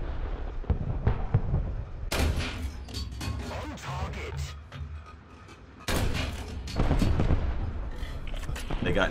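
Cannon fire from a BT-7M light tank in War Thunder, aimed at an enemy tank turret: two heavy, sharp blasts several seconds apart, each followed by a rumbling tail, with talk heard in between.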